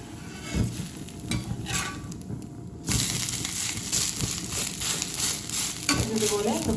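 Dosa sizzles in a hot pan with coconut oil poured around its edge, crackling and frying steadily with a sudden louder burst of hiss partway through, plus occasional scraping of a spatula as it is flipped.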